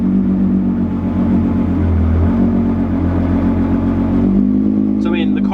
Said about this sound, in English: the car moves no problem with just the clutch, no gas at all.